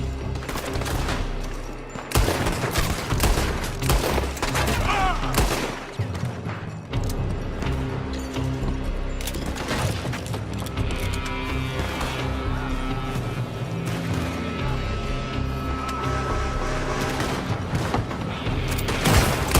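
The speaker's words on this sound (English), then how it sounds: "They're shooting from that building." Gunfire in Red Dead Redemption 2, with dense, continuous volleys of shots and booms from a building during a shootout, layered with game music and brief voices.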